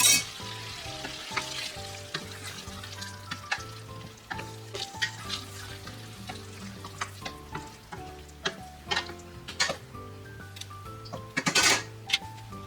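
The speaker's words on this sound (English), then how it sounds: "Gnocchi going in just to reheat for a couple of minutes" Filled tomato and mozzarella gnocchi reheating in a pan of tomato sauce on the stovetop bubble with a soft sizzle, with scattered clicks and taps of a utensil against the pan.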